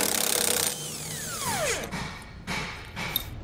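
An 18 mm socket on a power tool whirs at high speed to spin nuts off a Roadmaster Comfort Ride suspension on a 2017 Grand Design Reflection trailer, its pitch sweeping down and then giving a few shorter bursts.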